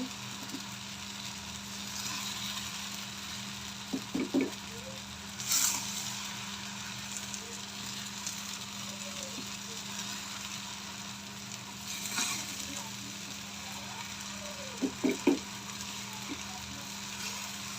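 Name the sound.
rice frying in a pan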